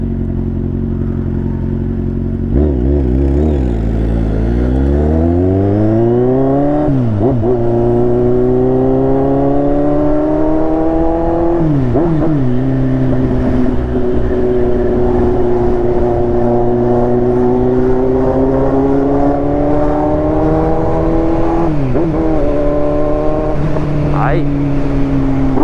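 Honda Pop 110 turbo and Kawasaki Z800 motorcycles riding in traffic, engines revving up and down in repeated rising and falling sweeps, loud and close throughout, with a voice talking at times over the engine noise.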